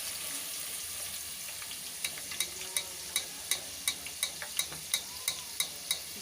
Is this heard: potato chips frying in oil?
yes